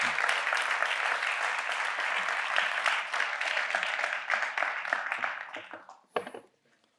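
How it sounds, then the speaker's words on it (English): Audience applause at a cancer center fundraising event, dense steady clapping that thins out and fades over the last seconds, ending with a few isolated claps. "If you could give them a round of applause,"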